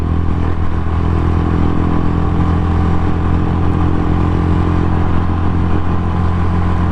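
A stock Rusi Classic 250 motorcycle roars past at top speed, its loud engine droning steadily and filling the whole stretch without a break.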